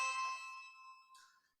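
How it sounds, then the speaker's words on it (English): A mobile phone sounds a notification, a clear bright ding that rings out and fades, followed by a short softer second chime, with nothing else heard. "That's my phone."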